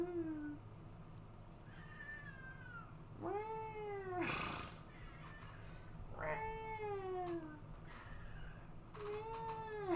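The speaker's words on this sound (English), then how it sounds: "Don't meow at me." A cat meows repeatedly, several long drawn-out cries spaced a few seconds apart, close and clear, with a brief rustling noise between calls.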